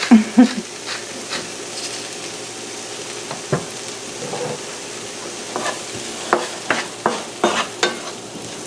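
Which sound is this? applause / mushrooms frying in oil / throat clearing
mushrooms frying in oil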